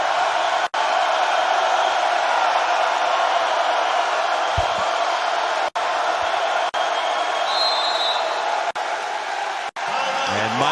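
Loud, sustained crowd roar fills a college basketball arena, Littlejohn Coliseum, during a close game between Virginia Tech and Clemson, with a steady wall of cheering and a few brief cuts near the end.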